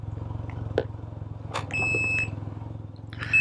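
A 2022 Can-Am Ryker Sport three-wheeler idles with a steady low engine rumble while its reverse warning emits a few short, thin beeps at close range.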